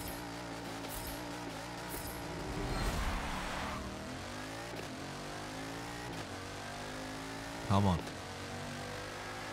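Engines of a Bugatti Chiron and an F1 car launching in Forza 7, a loud steady revving drone with a surge near three seconds and a sharp burst near eight seconds, with someone talking over it.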